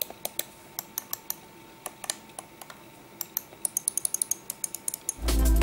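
A Tesoro Gungnir gaming mouse clicks quietly and repeatedly in an uneven rhythm, light close ticks that speed up into rapid bursts before a louder rustling noise takes over at the end.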